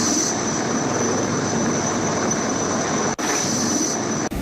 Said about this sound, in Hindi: यह हेलीकॉप्टर को एक छत पर उतारा गया, लैंड कराया गया